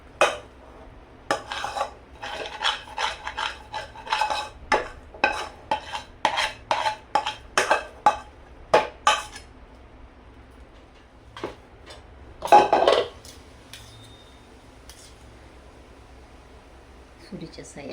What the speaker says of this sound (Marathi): कढईतलं सारण संपूर्ण आपल्याला ताटामध्ये घ्यायचं आहे.